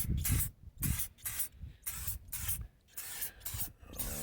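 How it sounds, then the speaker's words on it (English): Short hissing bursts of Meguiar's Hot Shine tire coating sprayed onto a tire, several quick spritzes in an uneven rhythm separated by brief pauses, close and fairly loud, with no talking. "That's the first coat of the meguiar's Hot Shine tire coating."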